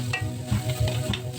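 Ginger pieces dropped into hot oil in a pan for a tilapia pocherong dish, giving a soft, steady sizzle with rhythmic stirring scrapes that pulse throughout.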